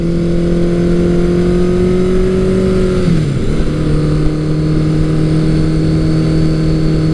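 A steady, loud Kawasaki Eliminator 900 motorcycle engine, fitted with its full airbox, drones at a low pitch, dips briefly in a quick downward slide, then settles back to a constant hum.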